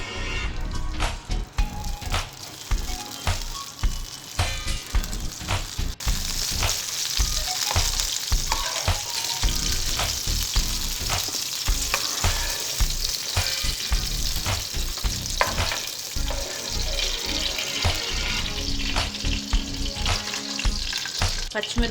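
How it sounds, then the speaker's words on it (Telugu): Green chillies frying in hot oil in a pan, a loud, steady sizzle with crackling pops running continuously, occasional stirring scrapes mixed in. "ఆయిల్ వేడైన తర్వాత పచ్చిమిరపకాయలు ఫ్రై చేసుకోవాలి."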